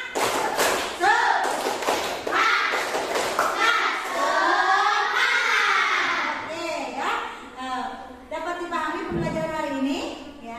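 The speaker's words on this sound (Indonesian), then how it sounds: "Tepuk semangat." Schoolchildren in an Indonesian classroom do the rhythmic 'tepuk semangat' clapping chant. Quick patterned claps and thumps open the sequence, and lively children's voices chant along throughout.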